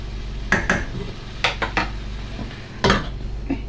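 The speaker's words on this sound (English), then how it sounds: "you can just leave it to saute down like this" A filling for breakfast tarts sautés in a pan, with a low steady sizzle broken by several sharp clinks and scrapes of a utensil against the pan, close and fairly loud.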